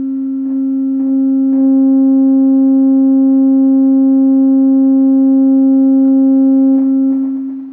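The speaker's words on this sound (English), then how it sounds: "We'll just bring the sine wave up until it starts to clip." A pure sine test tone through a Decware Zen amplifier holds loud and steady with stacked harmonics as the level is raised toward clipping, plus a few faint clicks and no speech.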